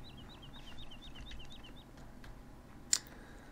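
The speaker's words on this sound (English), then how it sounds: "Well, the birds are singing." Birds sing on a farm in the video game Farming Simulator 17, a quick run of repeated high chirping notes over a low ambient hum, followed by a single sharp click.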